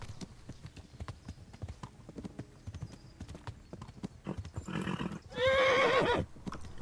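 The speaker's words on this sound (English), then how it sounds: "The horse is getting fatigued" A horse in the medieval video game Kingdom Come: Deliverance gallops with a rapid, steady clip-clop of hooves, then gives a loud whinny near the end.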